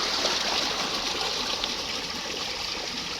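A small stream used for irrigating rice fields runs steadily nearby, giving a continuous bright rush and trickle of flowing water with no voices.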